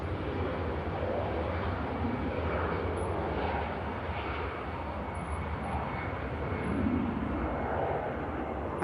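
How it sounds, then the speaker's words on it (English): An EasyJet airliner takes off at Manchester Airport, its engines a loud, steady broadband roar that holds throughout with no talk over it. "Here goes the EasyJet."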